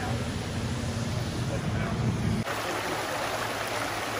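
A waterfall in Spearfish Canyon rushes as a constant broadband roar with wind buffeting the microphone, loud and steady throughout, with low rumble easing slightly partway through.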